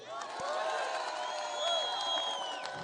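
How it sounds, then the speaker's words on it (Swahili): A large outdoor crowd at a political rally in Siaya, Kenya, gives sustained applause and cheering with whoops, a broad steady roar of clapping and voices with whistles rising over it. "wapigie makofi."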